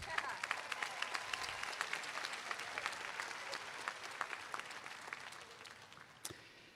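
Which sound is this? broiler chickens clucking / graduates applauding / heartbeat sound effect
graduates applauding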